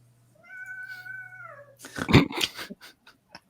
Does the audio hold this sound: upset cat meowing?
yes